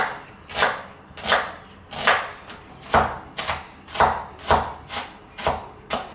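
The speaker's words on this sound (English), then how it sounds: "Over here I've got 2 red onions here. I'm gonna finely chop them up" Two red onions being finely chopped on a board, about a dozen evenly spaced knife strikes in a steady rhythm, close and crisp, with no talking.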